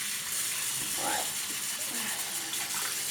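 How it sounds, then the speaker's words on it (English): Fresh tap water runs steadily into a small container, a continuous close gushing hiss that stays even throughout with no pauses. "let me just get some fresh water into here very quickly"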